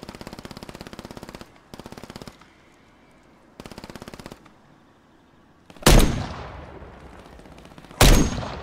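Bursts of automatic gunfire in a Call of Duty match: several rapid rattling volleys separated by pauses, followed by two sharp, loud blasts with ringing tails near the end.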